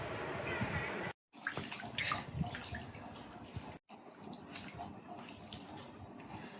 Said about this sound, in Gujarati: તો મિત્રો જો અત્યારે કાતરી આ ધોઉં છું